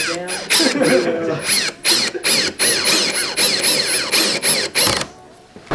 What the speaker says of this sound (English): we got some screws, about to screw these on, 2 on each corner